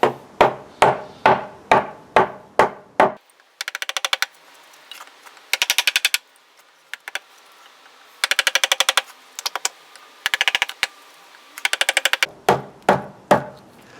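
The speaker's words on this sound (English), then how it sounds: "I thought I'd try using just a gouge today." A gouge chopping into end-grain wood while carving out a wooden bowl: sharp, close knocking strikes in quick clusters of several blows, separated by short quiet pauses, with no talking.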